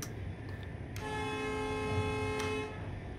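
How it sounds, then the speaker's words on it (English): A locomotive horn in the railway simulator game Train Life, a long sustained multi-tone blast that starts abruptly after a short mechanical clunk and cuts off, with train rumble running underneath. "Same horn though, strangely."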